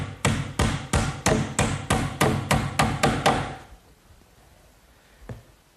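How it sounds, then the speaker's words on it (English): Rapid hammer blows drive 6-penny finish nails into a wooden sink cabinet panel in a woodworking shop, about a dozen steady close strikes, then a pause and one final tap. "I'll just secure that with some finish nails, 6-penny finish nails"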